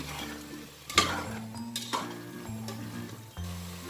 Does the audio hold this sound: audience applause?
no